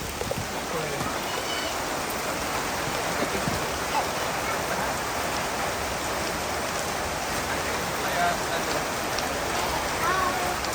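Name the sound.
rain falling at forest river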